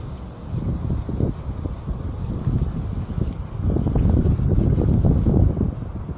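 Strong headwind buffets the microphone while riding a Zenon MG LTX motorcycle, a steady loud low roar with gusty surges swelling toward the end, no talk.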